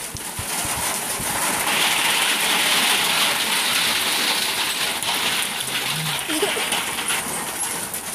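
Steady rain falls in rural Ukraine, a dense continuous hiss of drops on surfaces with a few faint knocks in the background.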